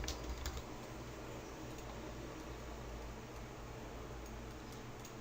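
Keys tapped on a computer keyboard while entering a name into an Unreal Engine 4 blueprint, a quiet, steady patter sitting under a constant fan-like hum.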